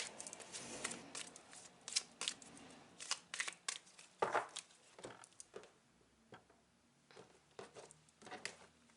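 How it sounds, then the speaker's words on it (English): Tarot cards being shuffled by hand in a close, quiet series of papery riffles, flicks and soft slaps, irregular and intermittent with no voice. "Let me just give it one more shuffle."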